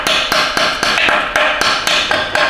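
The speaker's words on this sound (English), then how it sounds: "I like to tap on the pin" Steady series of light metal taps on a pin while removing the 2-4 servo from a 4L60 automatic transmission during teardown, about ten evenly spaced sharp clicks, close and clear with no talk.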